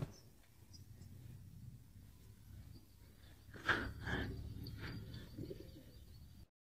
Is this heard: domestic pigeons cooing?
yes